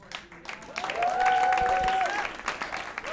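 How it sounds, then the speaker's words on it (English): A live stand-up comedy audience in Rwanda breaks into applause, clapping swelling quickly to a full burst and then tapering off, with a sustained tone and some voices mixed in. "give them a round of applause"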